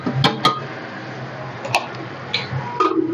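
Chopped jackfruit (kathal) is stirred and roasted in a covered pan, giving a soft steady sizzle with a few sharp clinks and taps of the spoon against the pan spread across a few seconds.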